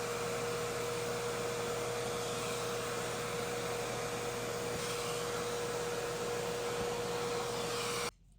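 A steady, loud whirring drone of a pet grooming vacuum motor with a 2.2 liter tank, sucking up dog hair, runs continuously with a constant tone, then cuts off abruptly at the end.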